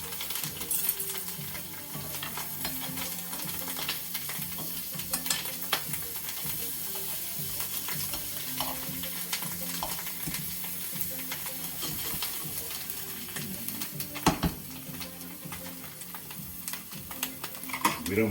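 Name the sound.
garlic bread frying in a pan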